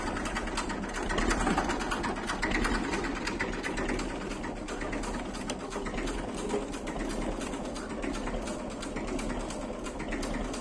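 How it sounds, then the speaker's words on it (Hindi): A Massey Ferguson 35 tractor engine runs steadily nearby in a sugarcane field, a continuous rattling mechanical drone with even, rapid pulsing and no break throughout. "बहुत ही प्यारी आवाज निकाल रहा ट्रैक्टर।"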